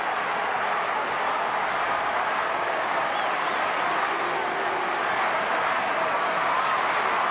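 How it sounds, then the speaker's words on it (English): Stadium crowd roaring at an AFL match between Adelaide and Richmond at AAMI Stadium, a continuous broad wash of cheering and clapping that stays steady and loud throughout. "Crowd noise cracking up again here at AAMI Stadium"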